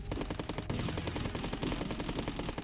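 Assault rifle with a fast fire rate in Cally's Trials, a rapid, evenly spaced stream of gunshots rattling continuously from start to finish, loud and unbroken.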